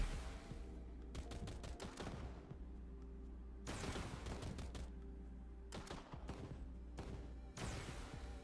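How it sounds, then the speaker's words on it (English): Laser cannon firing in the game Nikke, sounding as repeated rapid bursts of sharp blasts in clustered volleys separated by brief lulls, loud and close with no talking. "Let's see what this laser cannon is like."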